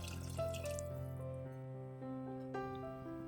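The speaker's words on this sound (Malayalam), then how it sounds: "കുറച്ചുകൂടി വെള്ളം ഒഴിച്ചിട്ടുണ്ട്." Water pours into a cooking pot of tomato rasam up close, a quiet splashing stream with a faint ringing tone and a few drips, no talking.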